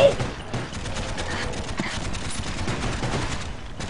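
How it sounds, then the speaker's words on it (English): Rapid gunfire in the Black Ops 3 Zombies video game, a steady stream of dense automatic shots running throughout at moderate loudness. "just try not to shoot anymore, Len"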